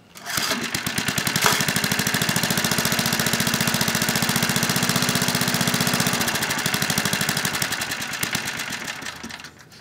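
A small generator engine running on homemade wood gas runs loudly and steadily with a fast, even chugging beat, holding a constant pace for several seconds before cutting off near the end.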